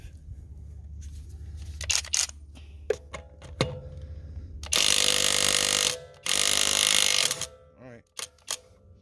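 A Skil 20V PWRCORE brushless impact wrench tightens a lug nut in two loud, sustained hammering bursts, each lasting about a second. Scattered mechanical clicks and handling noises come before the bursts.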